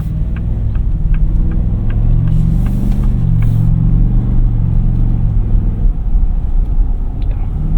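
A Ford F-250 Lariat pickup with a 7.3L V8 accelerates hard on the road, its deep engine roar building steadily and loud from inside the cab, alone without talk.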